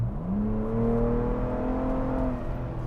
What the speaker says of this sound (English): I like the 6-cylinder sound